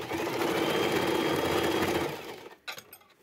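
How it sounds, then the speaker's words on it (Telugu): A sewing machine stitches a fall onto a saree with a piping border, running in a fast steady whir for about two seconds before stopping, followed by a few soft clicks and handling sounds. "ఇక్కడ రఫ్ లాగేసి గట్టి కుట్టు వేసేసుకోవాలి లాస్ట్లో"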